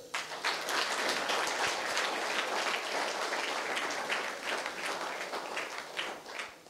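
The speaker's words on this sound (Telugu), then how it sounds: "అందరూ చప్పట్లు కొట్టాను గట్టిగా" Audience applause at a government intermediate college session, steady broadband clapping from a large crowd sustained loudly and evenly throughout without any speech.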